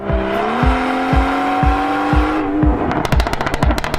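A 2022 BMW M240i engine idles with a steady tone while sharp exhaust pops repeat about every half second, then break into a rapid, crackling burst of backfires.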